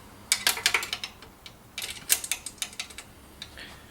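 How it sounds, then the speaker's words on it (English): Number 10 wrench tightening a bolt while assembling a VEVOR 3-in-1 hand trolley cart: bursts of quick metallic ratcheting clicks in two clusters, close and fairly crisp, with no talk. "Use a number 10 wrench,"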